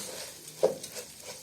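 Onions and other ingredients being sautéed in oil, a soft sizzle with a stirring scrape and light patter, faint and close, no talk.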